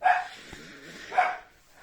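A dog stands at a window barking out through the glass, two sharp barks about a second apart, close and fairly loud in a quiet room.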